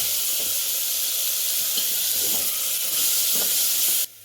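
Tomatoes fry in a hot cooking pan with a steady, bright sizzle and hiss, close and continuous, with a few soft stirring knocks before it suddenly drops away.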